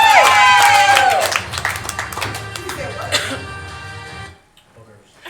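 A game-show studio audience cheers, shouts and claps loudly for contestants eating jelly beans, with voices mixed in, before the noise drops off sharply near the end.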